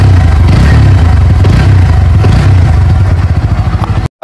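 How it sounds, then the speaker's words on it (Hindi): A 2024 Bajaj Pulsar NS125 motorcycle's exhaust note, loud and close, with a steady throbbing idle and rhythmic revving pulses that ends abruptly, and no talking over it. "पीछे में आपको एक बार एग्जॉस्ट नोट भी सुना देते हैं"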